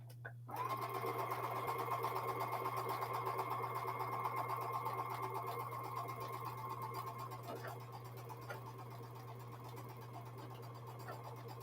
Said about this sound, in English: I can just hold those in place as I sew.